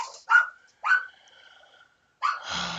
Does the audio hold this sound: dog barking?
yes